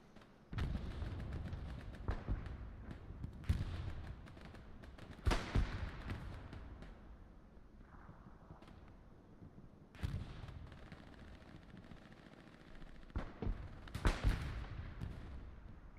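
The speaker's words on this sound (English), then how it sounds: "this right here is a 10th Mountain bombing run" Bombs fall during a 10th Mountain bombing run in the World War II shooter Hell Let Loose on the Hurtgen map, several heavy booming blasts spaced seconds apart over a steady rumble of distant battle.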